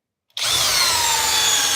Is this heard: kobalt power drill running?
yes